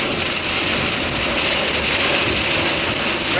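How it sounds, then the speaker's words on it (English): A dense, unbroken roar of heavy rain pounds the car from outside while driving on a suddenly windy road, loud and steady throughout. "Rain come down like crazy, man."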